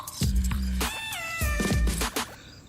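Young kittens about 9-10 weeks old meow repeatedly in high, thin cries, several calls overlapping close by with brief pauses between them.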